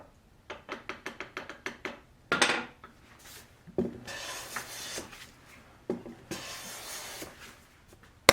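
Hand plane taking a series of passes across the face of a large board, about a dozen quick rhythmic strokes at first and then longer, slower swishing shavings, close and fairly loud with no talk.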